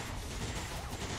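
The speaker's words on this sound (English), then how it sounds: "Oh, he's suppressing Nathan." Suppressing fire in the video game XCOM 2 bursts out as a short, dense volley of gunshots, loud and continuous for about a second with no pause.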